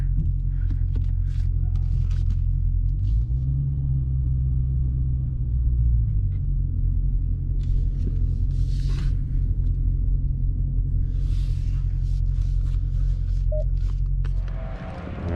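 A 2020 Dodge Challenger Scat Pack widebody rumbles at low speed while parking, its deep exhaust drone loud and steady with a slight rise and fall in the middle.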